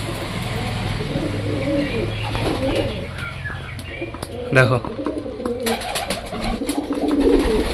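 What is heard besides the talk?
pigeons cooing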